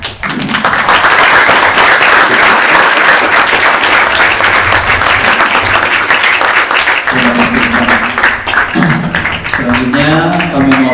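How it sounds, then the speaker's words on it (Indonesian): Sustained audience applause fills a hall during a ceremony installing new administrators at Ash Shiddiqy Islamic boarding school, loud and dense throughout, with a voice speaking over the final few seconds. "untuk itu silakan berikan aplaus ya"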